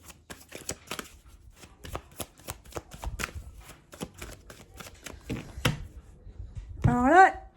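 Tarot cards are shuffled and cut by hand, a quick series of crisp riffling snaps and slaps close up, followed by someone speaking at the end.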